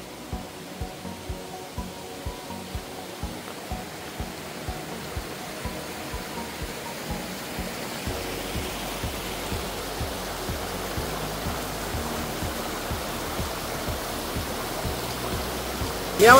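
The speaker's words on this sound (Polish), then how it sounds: "idziemy szlakiem wodospadów jakichś takich fajnych, więc musieliśmy to wam pokazać" A waterfall-fed stream on a hiking trail near Lądek Zdrój rushes in a steady, broad hiss, with regular soft thuds like footsteps underneath during the first half.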